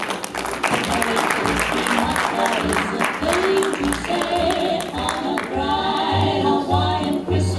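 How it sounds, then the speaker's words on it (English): An audience at a Las Vegas Christmas celebration applauds for Rebecca Snetzler, scattered clapping running under loud music with a steady bass beat and some voices mixed in. "Please give a round of applause to Rebecca Snetzler."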